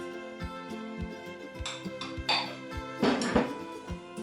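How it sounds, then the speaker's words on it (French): A whisk clinks rhythmically against a bowl while whole eggs and yolks are beaten for a Black Forest cake, with steady close metallic taps and a few louder scrapes. "Je fouette dans un premier temps mes 2 œufs entiers avec mes 2 jaunes"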